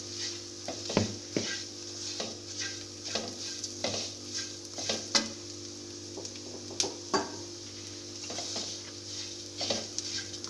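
Onions and spices frying in a pan for homemade samosa filling, with a steady sizzle under repeated scraping and stirring strokes of a utensil against the pan, close-up over a constant low hum.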